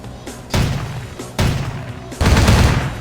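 Assault rifle fire in a video game arrives as three loud bursts of booming, thudding shots that follow one another about a second apart, close and forceful, the last burst heaviest.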